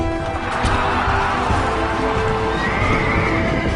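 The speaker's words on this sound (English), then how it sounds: "There was the Hippodrome, where chariot and horse racing events took place." Horses racing in an ancient Greek hippodrome, a dense, steady roar of hooves and movement with neighing and whinnying rising through it, loud and continuous with no pauses.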